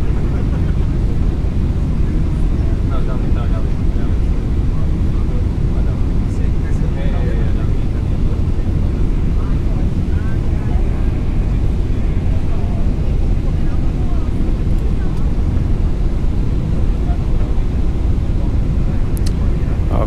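Steady, loud engine and air roar inside the cabin of an Emirates Boeing 777-300ER on its landing approach, a continuous low drone running the whole time with faint cabin sounds over it.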